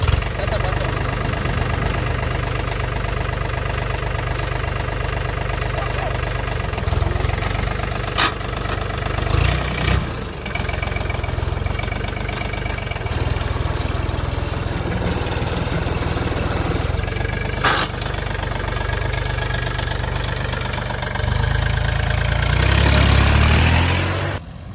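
Mahindra Oja tractor engine running steadily on a brake test in two-wheel drive, high fourth gear, a continuous loud mid-pitched diesel drone with brief bumps and a heavier surge near the end.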